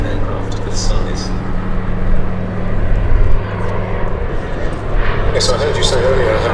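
A PBY-5A Catalina flying boat making a pass at an airshow, a loud droning propeller engine rumble swelling and holding as it goes by, with a commentator talking over it.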